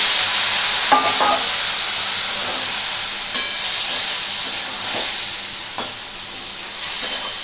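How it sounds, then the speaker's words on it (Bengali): Paneer fries in a hot pan for a malai paneer dish, giving a continuous, close sizzle and hiss broken by occasional scrapes and clinks of stirring. "দেখো এখানে আমি এটা ভাজছি এটা ভাজা হয়ে গেছে"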